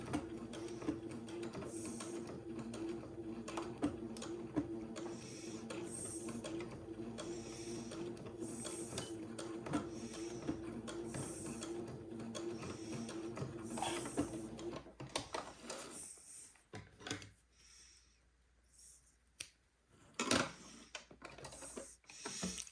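A sewing machine stitches a small diagonal line at the bottom of a doll dress placket for a Baby Bubbles doll, running as a steady close mechanical whir for some fifteen seconds before stopping into quiet handling clicks.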